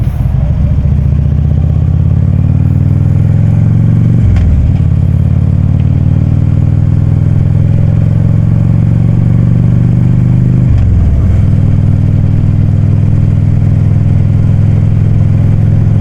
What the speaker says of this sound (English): while I'm out today, guys, I'm just kind of riding, making some loops here and there